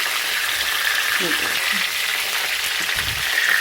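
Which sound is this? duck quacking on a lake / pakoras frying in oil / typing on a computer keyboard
pakoras frying in oil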